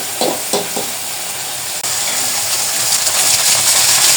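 Noodles fry in a pan as a steady, close sizzle. A few scraping stirs land early on, and the crackle swells slightly toward the end.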